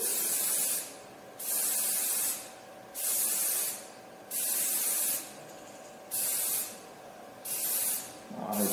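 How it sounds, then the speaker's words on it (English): Aerosol scanning spray applied to a part ahead of 3D scanning, six loud hissing bursts of about a second each, separated by short pauses, close and steady. "I'm gonna spray that part again because I wanna get a better result, a really good surface."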